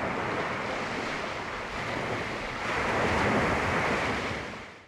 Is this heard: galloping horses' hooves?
no